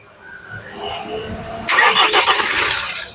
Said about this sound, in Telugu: సింగిల్ సెల్ఫ్ లో కార్ స్టార్ట్ అయితే ఎటువంటి స్టార్టింగ్ ట్రబుల్ అయితే లేదు